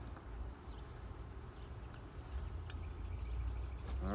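Honeybees buzzing around a backyard beehive during an inspection, a faint steady drone with low wind-like rumble and occasional small clicks and bumps nearby.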